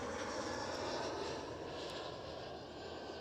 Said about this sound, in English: We do have a KLM City Hopper making some noise over here.